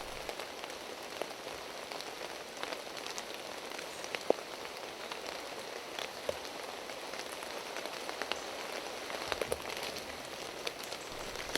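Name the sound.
heavy rain in woodland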